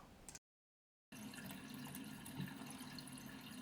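A concealed Roca toilet cistern refilling with water after a drip repair, a quiet steady rushing fill after a brief gap, with no one speaking.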